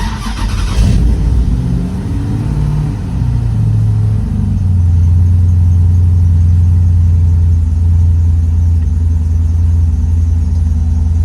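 An Ultima GTR's engine cranks over, fires and settles into a loud, steady low rumbling idle that runs to the end, close up, with the car in neutral and a faulty battery.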